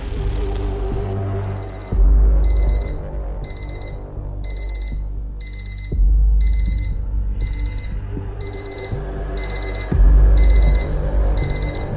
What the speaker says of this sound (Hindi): पर फ़ोन का ये अलार्म किसी बधाई के मैसेज से पहले ही गूंज